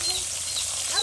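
Oil sizzles and crackles as small fish fry, a brief steady hiss with faint voices in the background.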